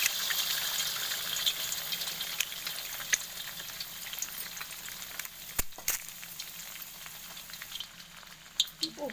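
Five beaten eggs fry in oil in a kadai, giving a quiet, continuous sizzling hiss with a few faint clicks and one sharp knock partway through.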